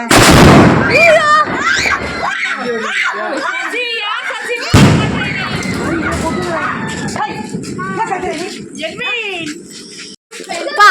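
Firecrackers burst outdoors with a loud bang at the start and another crack midway, followed by crackling pops, while children and adults talk and shout excitedly throughout.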